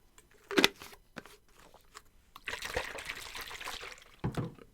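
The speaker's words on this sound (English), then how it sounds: "Water sound." Water trickles and pours softly for a few seconds, with a couple of sharp knocks and drips, close and fairly quiet, no talking.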